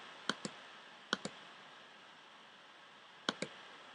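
Three quick pairs of mouse clicks, each a sharp double tick, spaced irregularly over a faint steady hiss, as a computer game is started.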